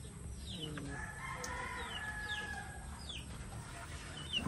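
Native chickens in a farmyard, with a rooster crowing and hens clucking at middle distance over a steady low background rumble.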